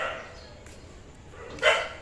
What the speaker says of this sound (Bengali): কুকুরগুলো এত চিৎকার করে